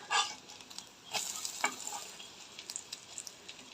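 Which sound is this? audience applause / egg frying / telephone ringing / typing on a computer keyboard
egg frying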